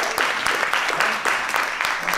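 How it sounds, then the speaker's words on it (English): A short burst of audience applause at a talk on stopping social cleansing, brisk even clapping from a room of listeners with faint voices underneath. "quick run of applause"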